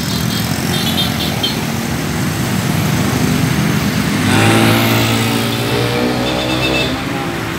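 A car speeds past at a road junction in a residential area, its engine rising to a loud close pass around the middle and then trailing off, over steady road and traffic noise.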